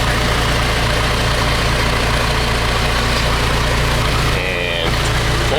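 A Case 588 engine idles with its transmission in neutral, a loud, steady low rumble close by that dips briefly near the end, while someone speaks over it.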